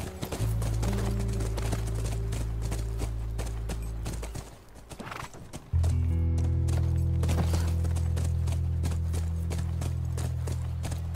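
Rapid, steady horse hoofbeats in The Last of Us Remastered clip-clop over a low rumbling drone, briefly dropping away midway before resuming at a brisk rhythm, with no talking.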